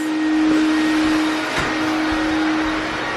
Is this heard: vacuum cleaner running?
yes